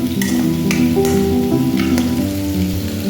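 Onions and spices, turmeric powder and chili powder, frying in a pan for a rohu fish and pumpkin greens dish, with a steady close sizzle and occasional stirring scrapes, no talk.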